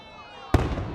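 A single loud firework burst goes off midway, following near-silence, then its crackling decay and rumble fill the rest of the moment.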